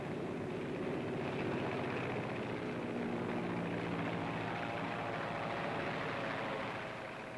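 A Cub light propeller plane flying during the Second World War in southern France, a steady droning engine hum that holds at an even moderate level throughout, with a slight fade at the end and no voices.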